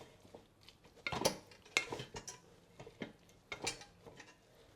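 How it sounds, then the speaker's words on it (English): Egg being mixed into kimchi and Spam rice inside a rice cooker pot, heard as close scraping and clinking of a utensil against the pot in irregular bursts, with no talking. "Break up the yolk and chop up the eggs and mix them together with the rice."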